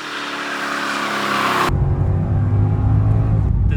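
A Mercedes-Benz E55 AMG with a broken condition first gives a bright, high wash of sound, then cuts abruptly to a deep, heavy engine rumble that holds loud and steady.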